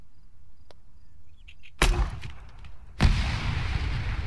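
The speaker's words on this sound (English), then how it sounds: "This is the grenade launcher equipped variant of said weapon." Grenade launcher on a QBZ-95 rifle fired in the video game Arma 3: two sharp, loud booming reports about a second apart, each followed by a rumbling tail, after quiet moments with faint clicks.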